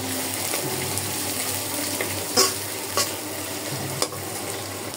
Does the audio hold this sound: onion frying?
yes